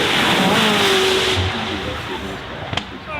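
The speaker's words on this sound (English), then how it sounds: "The McLaren Senna, Bruno Senna at the wheel of this car" McLaren Senna hypercar, about 800 horsepower and 1350 kilos, driven hard up a hill at a hillclimb event, its engine roaring loud and steady with a rising tone, then a sharp pop near the end.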